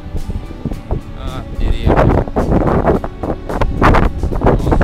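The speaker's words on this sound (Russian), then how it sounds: "Вот ветер хороший сегодня" Strong sea wind blows along the beachfront near Hayarkon Street where surfers ride the waves, gusting and buffeting the microphone in loud, uneven rumbling bursts throughout.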